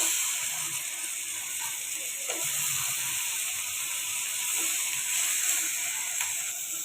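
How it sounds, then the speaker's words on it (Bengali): Brinjal pieces being stirred through oil-released spice masala in a pan, a steady soft sizzle and hiss with faint scraping and clinking of the spoon, fairly quiet and continuous with no talking. "আমরা বেগুনটাকে নেড়ে চেড়ে দিয়েছি।"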